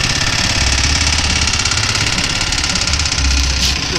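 A go-kart engine running steadily at idle, a loud, close, continuous rattling drone with a rough knocking pulse throughout.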